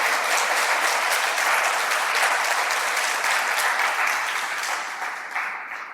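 A congregation at a Christian service bursts into steady applause, a dense, even roar of clapping that holds strongly before thinning and fading toward the end.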